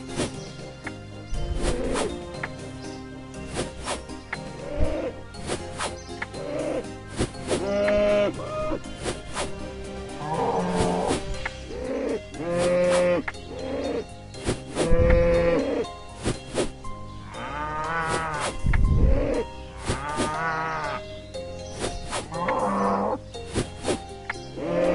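Cows in the RuneScape video game moo repeatedly, several drawn-out calls spread through a busy game soundscape with clicks and other effects around them.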